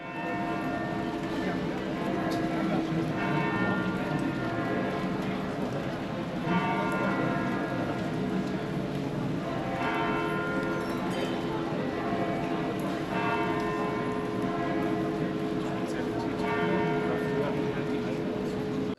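Church bells ring at Marienplatz in Munich, a steady layered peal of sustained tones that carries on throughout over the constant murmur of a busy city square, with people talking nearby.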